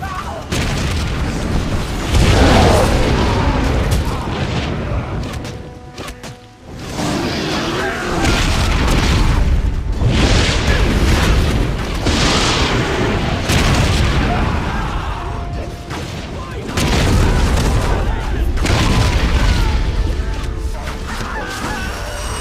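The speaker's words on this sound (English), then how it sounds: "Huge machine sprays fire upon the field!" Fiery blasts from a huge siege machine in the Lord of the Rings Conquest video game, a loud, sustained roaring wash of flame and booms in surges with brief lulls, dense battlefield noise throughout.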